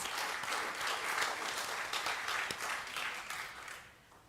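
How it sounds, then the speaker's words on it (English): Audience applause fills a hall during a talk at a New Orleans event, a steady dense wash of clapping that holds loud for several seconds and then begins to fade toward the end. "Yes, that deserves an applause."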